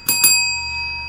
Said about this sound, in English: Here's my bell.